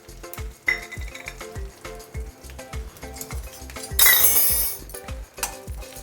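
Neem flowers, dried red chilies and curry leaves fry in hot oil for neem flower rasam. Crackling sizzle comes with stirring clinks, a loud burst of spluttering midway, and a steady low rhythmic pulse underneath.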